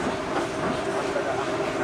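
A train carriage on a different-gauge line in Myanmar rocks slowly along the track, giving a steady, dense rumble and rattle that stays constant and fairly loud from start to end.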